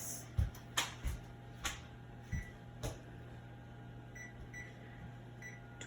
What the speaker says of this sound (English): And Claire, can you set the timer for 25 minutes?